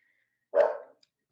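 One dog bark comes from the background during an online exam session, short and moderately loud, standing alone against near silence.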